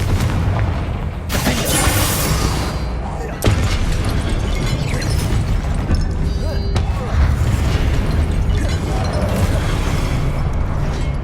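Blasting-spell explosions and magic combat in Hogwarts Legacy, with several sharp loud booms over a dense, busy game mix, while a voice speaks over the action.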